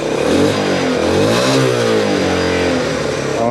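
A Honda Trail 110 motorcycle engine fitted with a Wincycles carburetor revs up and down during a throttle response check, loud and close, with its pitch rising and falling steadily throughout.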